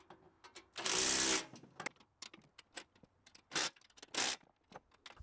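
Screws being tightened on the housing of a Progarden Campo T12/T18 mini-tractor tiller, with close clicks and ratcheting taps plus two longer bursts of grinding whir, all under quiet surroundings.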